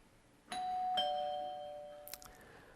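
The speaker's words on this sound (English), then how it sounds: "What you just heard is my doorbell at home." A two-tone doorbell chime rings once, its notes lingering and fading, followed by a faint clatter.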